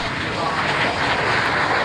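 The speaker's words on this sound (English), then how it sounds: "that was the tornado going over the top" Panavia Tornado jet passing overhead, a steady broad roar of engine noise filling the whole short stretch, fairly loud and close with no talk over it.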